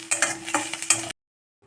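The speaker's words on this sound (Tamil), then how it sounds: "இப்போ வெங்காயத்தை இந்த மாதிரி நல்லா ஒரு நல்ல ரெட்டிஷ் ஆகிற அளவுக்கு நல்லா வதக்கி வச்சுக்கலாம்" Onions sautéing in a pan until reddish, with a run of scraping stirs and soft sizzling for about a second, close and fairly loud, before it cuts to silence.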